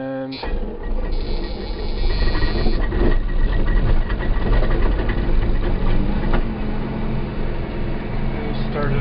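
A combine harvester engine turns over and settles into a steady, loud, low idle that fills the whole stretch without breaks.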